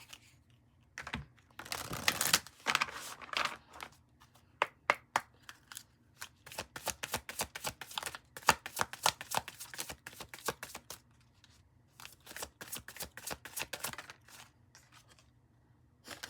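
Tarot cards are shuffled by hand in bursts of quick, crisp riffling and slapping, close and fairly quiet, with short pauses between the flurries.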